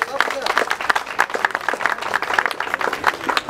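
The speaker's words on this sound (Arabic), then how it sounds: "صفقوا صفقة يا شباب هذه الأبطال." Applause from an audience at an awards ceremony for a cultural and arts festival, steady moderate clapping throughout with a voice speaking over it.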